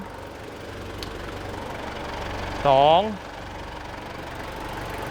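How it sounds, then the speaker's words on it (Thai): A car engine idles steadily as a low rumble during a battery jump start, while someone talks over it and a brief whistling tone rises and falls midway. "คันที่มาช่วยเนี่ยเราก็เร่งรอบเครื่องยนต์ไว้ซะหน่อย"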